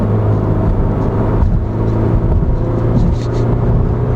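Stock 2017 Toyota 86 engine dropping a couple of gears in manual mode, a steady low drone with a mild rise in revs, fairly quiet and smooth, heard from inside the cabin under ongoing talk.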